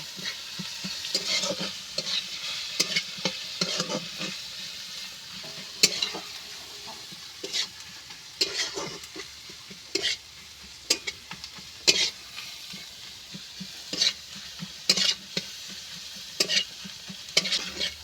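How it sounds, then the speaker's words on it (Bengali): Chana masala spices with turmeric and chili powder are stirred and fried in a pan over a clay stove, with frequent quick scraping strokes against a bright, continuous sizzle and no talking. "এইভাবে নেড়ে চড়ে আমি মশলাটা ভালো করে কষিয়ে নেব"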